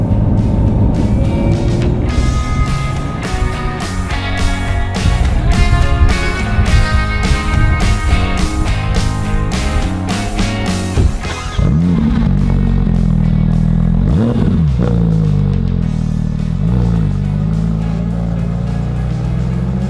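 A Porsche GT3 RS engine roars loudly as the car is driven, climbing through revs with rapid gear changes, then settling into a steadier drone with a couple of surges and dips.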